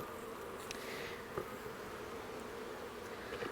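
Honey bees hum steadily around an open hive, a dense, even drone close by with occasional faint clicks and knocks, and no voices.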